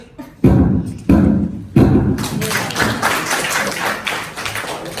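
A wooden gavel strikes three times, loud and close, at a village budget deliberation meeting in Kemenuh, Sukawati, Gianyar, Bali, each knock evenly spaced, followed by broadband rustling and murmuring room noise.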